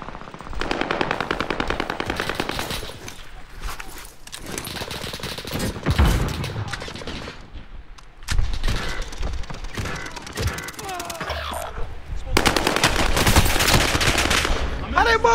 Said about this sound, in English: How they both shooting like that?